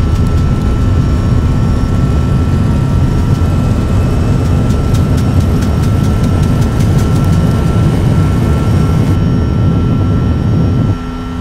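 Jet engines of a JAR A320neo airliner in a flight simulator game spooling at takeoff power, a loud, steady low roar with whining tones that stays constant for about eleven seconds, then dips slightly at the end.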